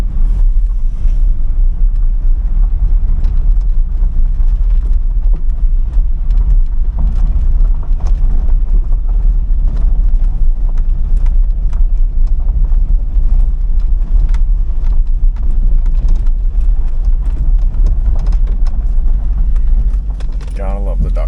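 A 2000 Chevrolet Corvette C5 with its LS1 V8 runs steadily at a wrecking yard, a loud, constant low rumble lasting throughout with wind buffeting the microphone and someone talking over it.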